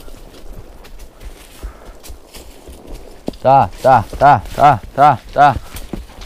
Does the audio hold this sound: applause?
no